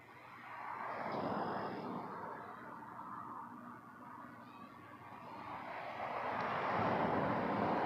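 A WestJet jet taking off at Toronto Pearson Airport, a broad engine roar that swells, eases, then builds again, fairly distant and steady throughout.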